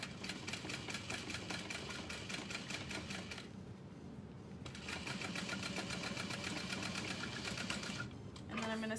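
A sewing machine runs in fast, steady bursts while top-stitching slowly around the edge of a satchel bag, pausing briefly midway and again near the end.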